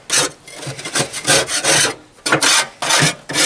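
A spatula scrapes food across the grates of a Pit Boss grill used for BBQ pork steaks, making loud, rasping strokes in quick bursts with short pauses between them.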